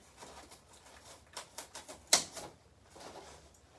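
Cardboard is cut down for wrapping a bat or golf club for shipping, heard as a run of close, quick scratchy snips and rasps with one sharper crack midway.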